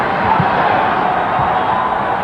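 An arena crowd at a 1995–96 NBA game between the Blazers and the Lakers lets out a sustained, broad roar of cheering that holds steady and loud throughout the moment.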